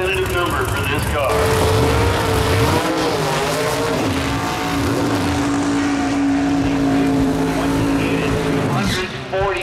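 Loud, roaring nitrous-fed drag-racing engines, one a Ford power plant, running continuously at Mission Raceway, with rising and falling pitch as cars accelerate, and a voice talking over the noise.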